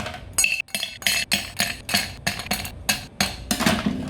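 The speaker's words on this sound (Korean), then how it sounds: "쉐이커에 얼음을 8개에서 10개 정도 넣어줍니다" Ice cubes, eight to ten of them, dropped into a metal cocktail shaker while mixing a Sea Breeze cocktail, a string of sharp clinks and clatters landing one after another, close and loud, with no talking.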